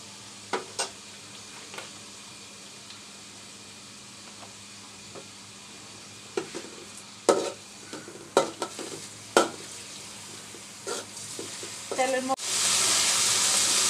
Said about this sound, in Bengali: মাংসটা আমার মুরগির মাংসটা ভাজা হয়ে গেছে